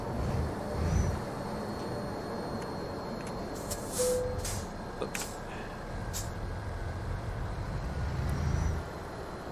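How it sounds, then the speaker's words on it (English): A Scania T Series truck in American Truck Simulator idles with a steady, quiet engine rumble and broadband road hiss, with a few brief clicks and a faint air-brake-like hiss over the top. "it does sound like probably a quiet engine truck"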